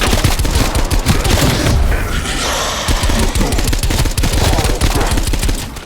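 Rapid gunfire in Call of Duty Cold War Zombies while shooting at a boss, dense loud repeated shots in quick bursts filling the whole stretch with little pause.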